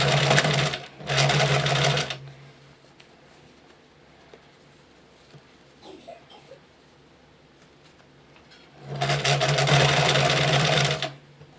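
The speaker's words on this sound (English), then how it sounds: "you're sewing around the outside of this scrunchie" A sewing machine stitches around the edge of a fabric scrunchie in two short, loud, steady whirring bursts at the start and end, with quiet handling sounds in between.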